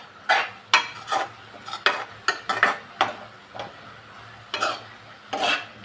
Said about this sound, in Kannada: ಇವಾಗ ಇದನ್ನ ಮಿಕ್ಸ್ ಮಾಡ್ಕೊಳ್ಳೋಣ